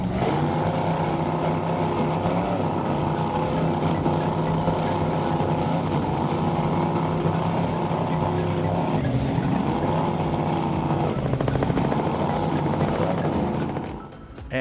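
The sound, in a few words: big engines of a 36-foot Skater powerboat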